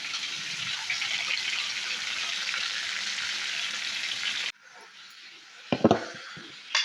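Vegetables fry in a pan with a loud, steady sizzle for several seconds, which then drops to a quieter hiss as a few knocks and clatters break through.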